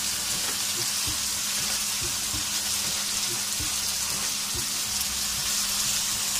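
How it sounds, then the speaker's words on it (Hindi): Boneless chicken sizzles and fries steadily in a handi pot for a malai curry, a loud dense hiss with faint stirring knocks underneath and no voices. "अब मैं इसको अच्छे से भून लूंगा।"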